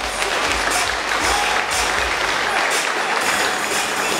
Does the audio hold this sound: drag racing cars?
no